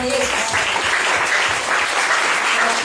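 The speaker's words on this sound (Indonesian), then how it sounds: "Berikan tepuk tangan bagi Tuhan Yesus" Congregation at a church seminar in Sentani, Papua clapping steadily and loudly throughout, a dense continuous applause with a brief voice at the start.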